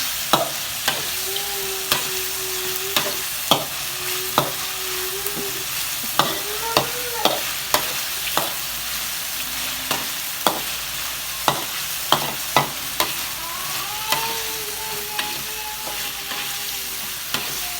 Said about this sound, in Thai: ผัดจนกุ้งสุกนะคะ